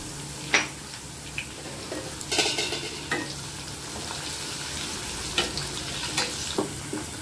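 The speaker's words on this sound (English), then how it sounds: "I've added the onion also to this now." Crushed garlic, chili and onion frying in hot oil, a soft continuous sizzle with a few sharp clinks and scrapes of a spoon against the pan.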